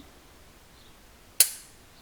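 A pistol is dry fired while held vertically. A single sharp click of the trigger sounds against a quiet background and fades out fast.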